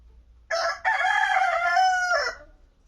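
A rooster crows once, loud and close, a long drawn-out call with a brief break near the start, ending in a falling tail, near a greenhouse.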